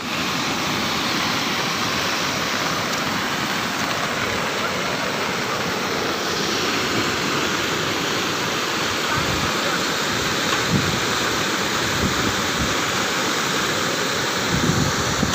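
Floodwater rushes around huts and rooms of herders' settlements in the Kanakuva area of Kutiyana, a steady loud roar of flowing water running unbroken throughout.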